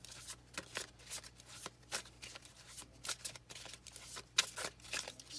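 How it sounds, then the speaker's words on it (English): Tarot cards being shuffled by hand at close range, a steady run of crisp riffling and sliding bursts with no voices. "We'll pull some tarot cards and see what other kind of messages we can get for these two oracle cards."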